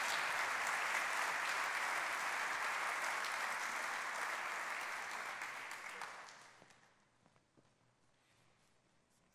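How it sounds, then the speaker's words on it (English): At an annual business meeting, an audience gives a round of applause for honored guests: thick, steady clapping that gradually thins and fades away, leaving scattered faint claps at the end. "please join me one more time in a round of applause for these wonderful people."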